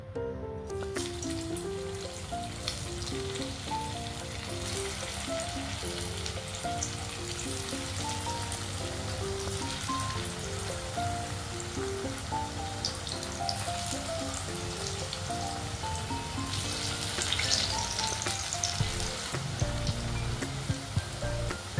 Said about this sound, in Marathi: इथे मी कढईमध्ये तेल गरम करायला ठेवले आहे. त्यामध्ये आपण आता आपल्या वड्या घालून घेऊयात.